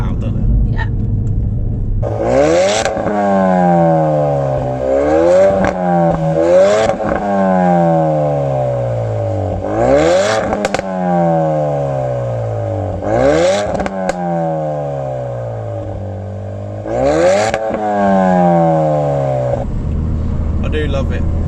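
Inside a Ford Focus RS Mk3 fitted with a Mountune V3 exhaust, the engine revs up hard through repeated gear changes, each pull a rising loud roar broken by sharp crackles and pops at the shifts.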